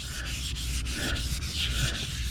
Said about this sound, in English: I'll go back over it again with 1000 grit